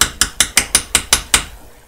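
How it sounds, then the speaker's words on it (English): Mechanical watch on a timegrapher, picked up as eight crisp, evenly spaced ticks about five per second, close and loud, then stopping, with no talk. "Ticking of the watch."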